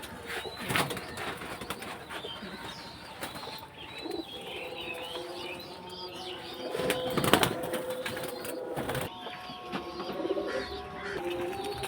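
Pigeons in a loft, cooing and fluttering their wings amid a busy background, with bursts of flapping and soft calls rising and falling over about twelve seconds.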